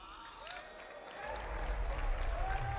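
A crowd at the Ubisoft Forward 2024 showcase breaks into applause, the clapping swelling from faint to a steady wash in the distance, with a voice talking over it.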